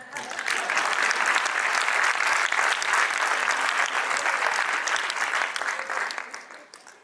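Crowd of business leaders at a private sector forum launch giving loud, sustained applause, a thick wash of many hands clapping that holds steady before tapering off over the final second.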